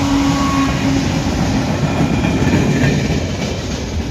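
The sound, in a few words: freight train passing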